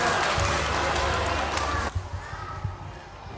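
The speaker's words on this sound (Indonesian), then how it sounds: "Beri tepuk tangan untuk adik-adik kita." Congregation applauding the children at a Christmas service of the HKBP church in Denpasar, dense clapping for about two seconds that then stops abruptly, leaving a few scattered claps and murmuring.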